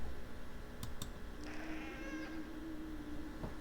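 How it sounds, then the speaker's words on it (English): A cat-like meow blended with a thin piping tone, played as a tabletop horror role-playing sound effect; a few faint clicks come first, then a single wavering call of about a second over a low room murmur. "It's almost like a cat, but there's a piping sound."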